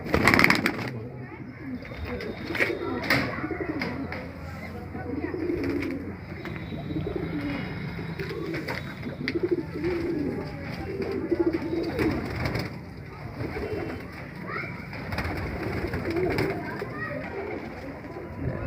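Pigeons coo repeatedly in soft, low throaty phrases, with people talking nearby and occasional clatter and rustling.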